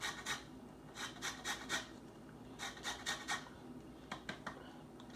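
Lemon is zested on a grater in quick rhythmic bursts of dry rasping strokes, grouped in short runs with brief pauses between, fairly quiet and close.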